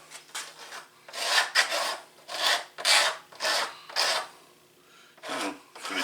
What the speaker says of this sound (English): Just a little bit of sandpaper.